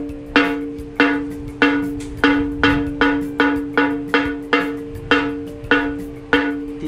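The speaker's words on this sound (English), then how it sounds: "these are royal musical instruments played by the wife of the family" Traditional Nigerian royal gongs played by hand in a steady rhythmic pattern, about a dozen bright metallic strikes with ringing tones that decay between hits, loud and close with no talking.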